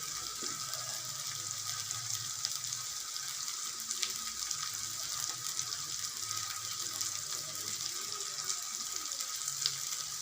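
Masala spices frying in hot oil for a prawn curry, a steady, even sizzle with a bright hiss that runs unbroken throughout, fairly faint and with no voices over it.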